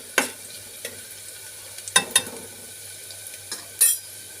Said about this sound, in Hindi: प्याज को हमें अच्छे से फ्राई कर लेना है।